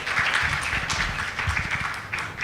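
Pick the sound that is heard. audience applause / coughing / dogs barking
audience applause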